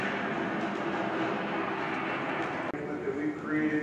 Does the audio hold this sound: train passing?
yes